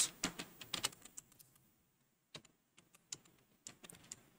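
Quick bursts of computer keyboard typing while text is entered in Photoshop, crisp clustered key clicks with short pauses between, close and fairly quiet.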